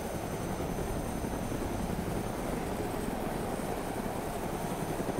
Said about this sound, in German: Wir kriegen Besuch vom Hubschrauber.